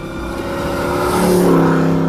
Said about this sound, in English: you're driving a GT40, you're driving a piece of racing history